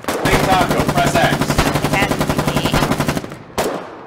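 Rapid, sustained automatic gunfire in the war game Foxhole, a dense rattling burst of shots that runs for about three seconds, stops briefly, then resumes with one more sharp blast, loud and close throughout.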